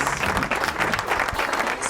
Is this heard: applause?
yes